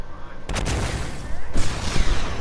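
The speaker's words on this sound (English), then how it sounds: "Can I try shooting a guided missile out of my hiding spot?" Guided missile launched in Fortnite, a sharp burst of firing noise followed by a rushing, rumbling thrust with rapid gunfire-like crackle, loud and close.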